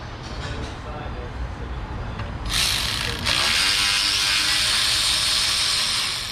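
A ratchet clicks while unbolting the radiator fans of a Subaru Forester during cooling-system removal in a garage. The clicking is close and loud, running steadily under broadband workshop noise, with talk in the background.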